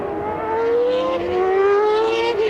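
A 1994 Formula One car driven by Damon Hill at the British Grand Prix howls past at high speed, its loud, steady engine note climbing in pitch across the short stretch.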